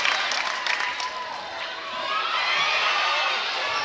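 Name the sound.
crowd cheering at a netball grand final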